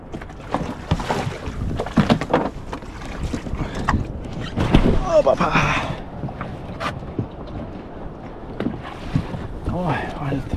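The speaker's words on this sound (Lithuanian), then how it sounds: "startuoju dabar ir plaukiu su dingiu iki kranto" A dinghy rowed toward shore off the Spanish coast makes splashing oar strokes and water sloshing against the hull, with wind buffeting the microphone, close and uneven, with no talking.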